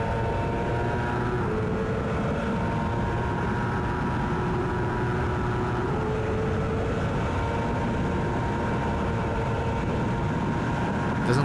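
A race car engine in the Daytona GTU racing game drones continuously and moderately loud under acceleration, with its pitch shifting slightly as it runs through the gears, with no voice.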